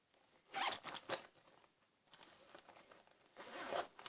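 A pencil case zipper is pulled open in several quick rasping bursts, close and fairly loud, with short pauses between pulls and no voices.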